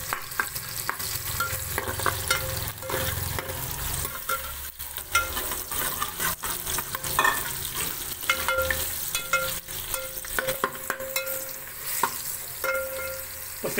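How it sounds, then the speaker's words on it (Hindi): Onions frying in hot ghee in a pot, a steady close sizzle with scraping stirring strokes throughout, no talking. "घी जब थोड़ा सा गर्म होगा तो उसके अंदर आपने प्याज डाल देना है।"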